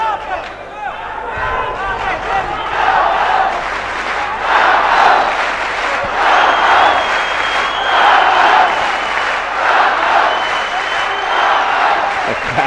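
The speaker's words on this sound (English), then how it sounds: "The crowd here really are getting behind their fighters." Boxing crowd cheering on the fighters, a loud rolling roar that swells in repeated waves over a steady hubbub, with a commentator's voice talking over it at times.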